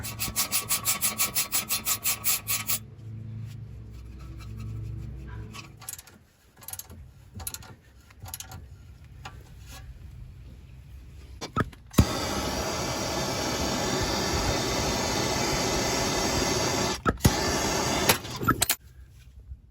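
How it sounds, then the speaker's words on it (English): A gear puller works on a car's tie rod end: a fast ratcheting tick at first, then scattered metallic clanks and scraping, and finally a long steady grinding noise, all close up with no talking. "I'm gonna actually use a gear puller"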